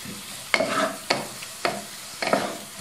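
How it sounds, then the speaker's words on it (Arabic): Ingredients sautéing in a pan, stirred in four distinct scrapes roughly half a second apart over a low sizzle, close and clear with no talk. "وغادي نشحرو مزيان"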